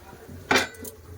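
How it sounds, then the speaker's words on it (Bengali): A single bright metallic clatter as a lid is lifted off a cooking pot, followed by a faint softer clink, close and fairly loud. "এবার চাপাটা খুলে দেখে নেবো"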